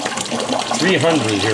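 An eShop 300 aquarium pump pushes a heavy flow of water, a loud continuous gushing rush heard close up while someone talks over it.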